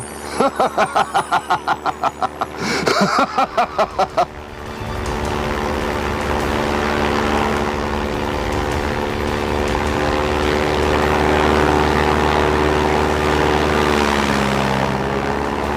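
A propeller aircraft engine drones steadily and loudly in flight, preceded by a few seconds of rapid rhythmic pulsing before settling into a continuous roar with shifting pitch.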